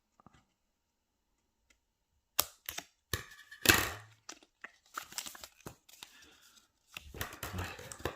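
Scissors snip and crinkle paper while folding an origami divider box, in sparse, close, quiet bursts of cutting and rustling separated by silences, with no talking.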